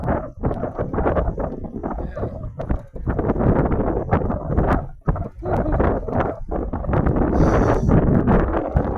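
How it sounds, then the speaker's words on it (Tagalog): Strong wind buffets the microphone with loud, continuous roaring and rumbling gusts that barely let up. "Lamig eh, malakas na hangin eh."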